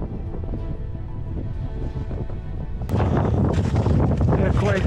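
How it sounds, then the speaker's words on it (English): Strong mountain wind roars against the microphone during a winter trek in the Swiss Alps, a steady rush that surges noticeably louder and harsher midway through, with no voices. "They're quite windy."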